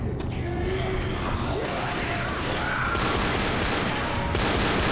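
Rapid bursts of gunfire in the video game Left 4 Dead crackle continuously, loud and close, with dense repeated shots and thuds filling the whole stretch.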